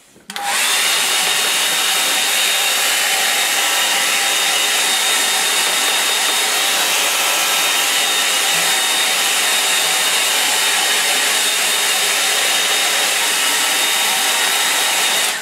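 A hair dryer blows over a watercolour painting, starting abruptly and then running as a loud, close, continuous whoosh for the whole stretch, steady and unbroken.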